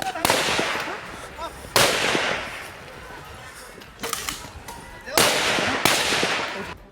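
Police firing shots into the air during a protest where demonstrators threw stones: several loud, sharp gunshot cracks in irregular bursts, each ringing out with an echoing tail, amid crowd noise.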